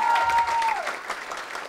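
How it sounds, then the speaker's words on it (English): A youth basketball workshop audience applauds the winning teams with brief, steady clapping, and a faint whistle-like tone glides down near the start. "These two teams are the winners. Big applause."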